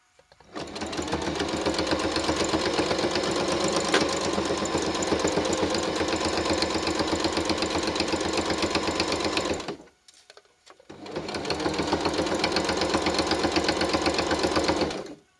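A sewing machine runs in a fast steady whirr of stitching hand grips for a walker for about nine seconds, stops briefly, then starts again and runs on.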